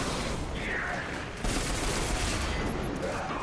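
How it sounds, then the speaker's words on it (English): Sustained heavy weapon fire from a fusion rifle in Destiny 2, played on a PS4 Pro, a dense continuous roar of energy bursts with a brief dip partway through, loud and close throughout, with no talk over it. "I literally just pulled out my fusion rifle."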